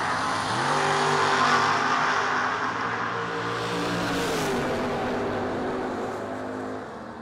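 Drag racing cars, one of them an El Camino, launch down the strip, with a loud, close engine roar that climbs steadily in pitch as they accelerate, then fades slightly toward the end.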